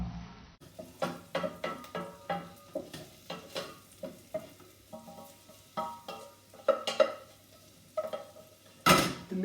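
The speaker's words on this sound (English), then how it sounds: "Get that garlic in. Give it a real nice Mix and mix." Sweated onions and garlic stirred in a pan with a spoon, giving a steady run of scraping strokes roughly once a second over a soft sizzle, close up and clear.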